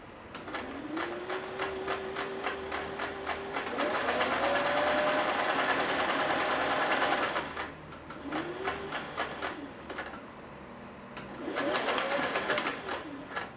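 A Singer 401A sewing machine runs in rhythmic stitching spells, its motor whine rising as it speeds up, loud and close, with pauses between runs.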